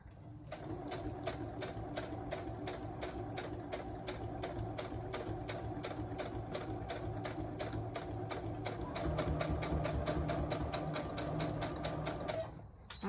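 Sewing machine stitching down fabric pockets on a phone and spectacles pouch, running steadily and close with a fast regular needle clatter for most of the time, then stopping.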